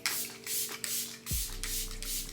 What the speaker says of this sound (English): now I'm gonna go in with the Juvia's Place again, and I'm gonna spray